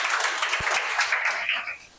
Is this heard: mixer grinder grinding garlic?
no